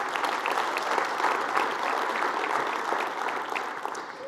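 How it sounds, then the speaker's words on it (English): An audience at a State of the City address claps steadily for a few seconds, a dense, even patter of many hands at moderate volume, tapering slightly at the close, with no voices. "you can give him a clap."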